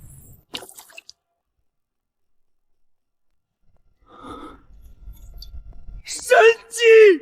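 Water poured into a steam engine cylinder holding a piston sealed with steel rings, as an animation sound effect: a short splashing, dripping pour midway, preceded by quiet clicks and followed by a voice speaking.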